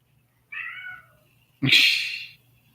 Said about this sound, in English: I don't know if you guys can hear the cat in the background.